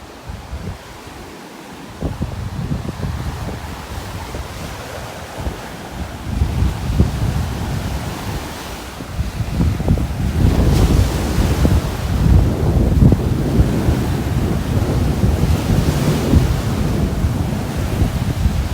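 Wind gusts and surf roll along a beach in North Naples, Florida, heavy rumbling wind buffeting the microphone and building louder partway through, with waves washing underneath.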